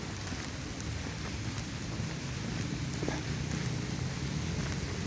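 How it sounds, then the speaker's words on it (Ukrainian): Steady, soft hiss of rain falling outdoors, with faint patters throughout and no talking. "дощ пішов."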